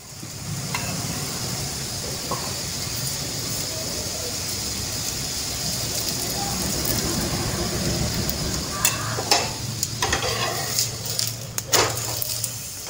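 An aloo paratha cooks in ghee on a hot pan, a low steady sizzle and hiss that picks up toward the end with several sharp crackles and utensil scrapes.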